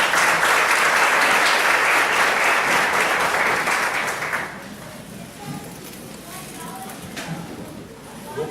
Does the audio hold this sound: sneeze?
no